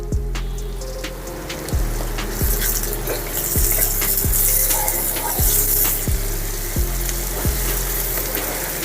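Ingredients for homemade shorva fry loudly in a pan under a bright, constant sizzle, while a spoon scrapes across the metal in regular strokes about every half second, close up and without speech.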